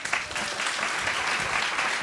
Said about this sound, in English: I think he deserves a nice round of applause.